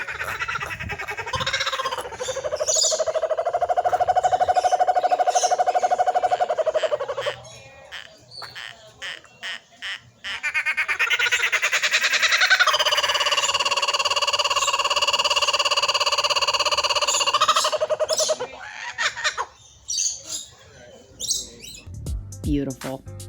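Laughing kookaburras break into a raucous chorus call, loud cackling and whooping bursts rising and falling over about twenty seconds, several birds overlapping in sustained rolling waves.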